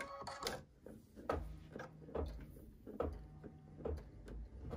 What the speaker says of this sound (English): we're gonna take it over to our machine and do our tack down stitches to attach the batting and the backing